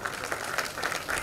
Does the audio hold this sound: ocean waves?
no